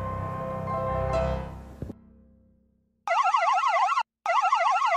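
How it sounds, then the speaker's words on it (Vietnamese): An armored riot police car siren wails in two loud, rapid warbling bursts separated by a short gap, following a fading stretch of narration and near silence. "Riots police car."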